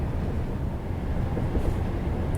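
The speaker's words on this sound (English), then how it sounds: "It's a freight train." A freight train passes in Train Sim World 2021, a steady heavy rumble of wagons rolling by at close range with no break in the noise.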